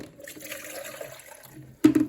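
Shower water sprays while a newborn baby is rinsed at home, a soft, steady watery hiss that drops briefly, then returns as a louder gush near the end, close by and with no talk.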